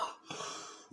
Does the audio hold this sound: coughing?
yes